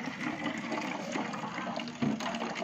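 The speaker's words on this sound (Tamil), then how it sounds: "தண்ணி கீழே ஊற்றும்" Water pours steadily from a homemade fish tank pump built from a small motor, a continuous splashing trickle heard close up and alone, with a brief louder gush near the end.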